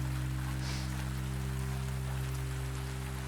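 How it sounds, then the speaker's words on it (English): Steady rain running down window glass on a night in an old bookshop, heard as a soft, even patter over a low constant hum, with no voices. "watches the rain trace its slow pass down the glass"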